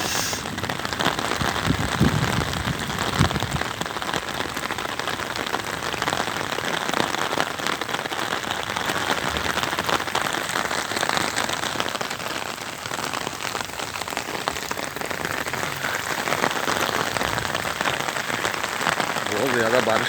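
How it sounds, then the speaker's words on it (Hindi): Heavy rain pours steadily across a village in Punjab, Pakistan, a dense continuous hiss of drops on surfaces and puddles throughout, with a voice speaking faintly beneath the downpour. "बहुत ज़्यादा बारिश हो रही है साथियों।"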